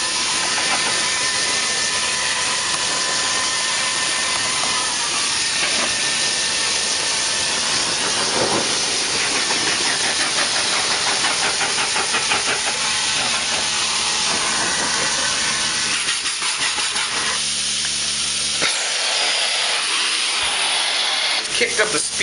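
Rotovac 360i carpet cleaning machine running at slightly raised speed, a loud continuous whirring hiss with a steady vacuum roar that persists for over twenty seconds, shifting near the end, while someone talks over it.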